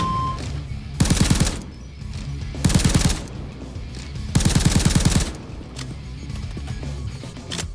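Little Friend rifle from Payday 2 fired in the training room, three separate loud bursts of rapid automatic shots spaced a second or so apart, close and punchy over low background music.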